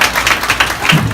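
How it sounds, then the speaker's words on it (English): Brief burst of audience applause and clapping for the presenter at a live alligator show, dense and close, lasting only a moment. "Folks, give him a big round of applause!"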